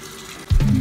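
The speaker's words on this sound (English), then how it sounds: "So all I do is fill it up with some water" Water runs from a tap into a container of homemade laundry soap gel, a short loud splashing rush that starts abruptly after a quiet moment.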